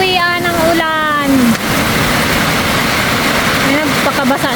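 Heavy rain pouring down steadily at home time, a constant loud hiss that runs through the whole stretch, with people talking briefly over it at the start and again near the end.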